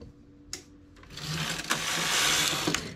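A knitting machine works thick wool for an adult beret, the carriage sliding across with a rising mechanical whir and clatter, punctuated by a few sharp clicks, close and moderately loud.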